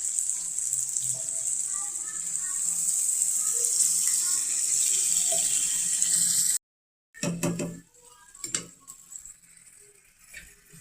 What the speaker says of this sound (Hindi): अब हमने इसके अंदर डालना पानी।